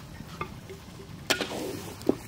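Spices frying and being stirred in a pan until browned, Bengali egg curry cooking in a village setting; soft sizzle with a few scraping stirs and light clinks of a utensil against the pan, close and fairly quiet.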